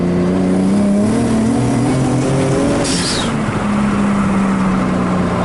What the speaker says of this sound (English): So first drive with the new turbo and the subframe bushings.